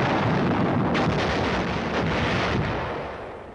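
Artillery gun firing, a heavy sustained roaring boom that fills the whole span and slowly fades, with no voices.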